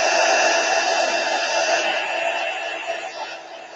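A hair dryer blows steadily to dry craft medium on paper, making a loud, close, continuous whooshing hiss that eases slightly toward the end.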